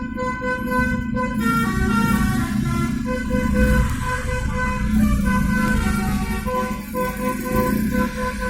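A bus horn at Pangandaran beach blares a loud, sustained melodic basuri tune with repeated tonal notes close by, over steady engine and crowd noise.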